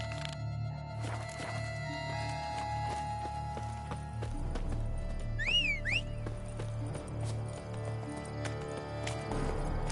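Horse hooves clip-clopping at a steady trot in The Witcher: Blood and Wine, a rhythmic close patter over game ambience, with a brief whistle partway through and no speech.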